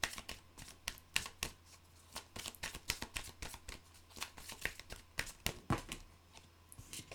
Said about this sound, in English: I'm being guided actually to use my Archangel Michael cards